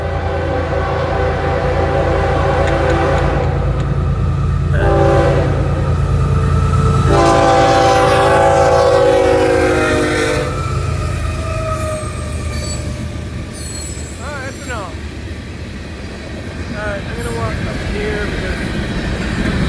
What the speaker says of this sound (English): Could be a rock train.